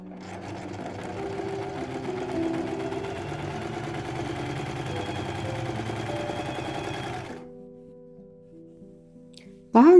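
A domestic sewing machine stitches at a steady, fast, buzzing whir for about seven seconds, then stops and leaves a faint hum, with a brief sharp noise at the very end.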